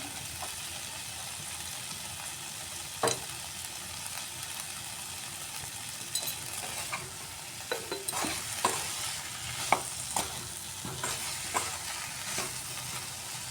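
Spice masala sizzles steadily in a pan with cauliflower and potato as it fries, a constant soft hiss broken by occasional scraping stirs and clinks of a spatula, with no voices.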